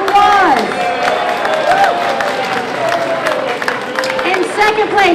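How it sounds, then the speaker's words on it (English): A birthday party crowd claps and cheers for first place winners, with sustained applause plus whoops and children's shouts over about five seconds, fairly loud and close. "Can we have a big round of applause?"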